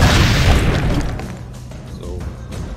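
A cannon fires in Assassin's Creed Brotherhood with a loud, close, booming blast that opens the moment and rumbles away over the following seconds, and quieter game noise continues after it.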